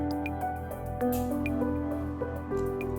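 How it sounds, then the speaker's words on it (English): A ball of homemade rennet-free mozzarella goes into hot water, giving soft wet squishes and a few light drips close by, with no talking. "So I'm placing this in the hot water."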